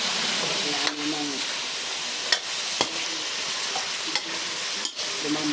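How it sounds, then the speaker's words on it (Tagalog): Garlic, onion and ginger frying in a pan as the base for dinuguan, a steady sizzle and hiss with periodic scraping stirs and a spoon knocking against the pan now and then. "Ginisa na yung bawang, sibuyas, luya."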